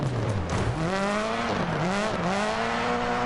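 A rally car in Dirt Rally 2.0 drives on a gravel section, its engine revving steadily and rising and dipping through gear changes, loud and close, with tyre noise beneath.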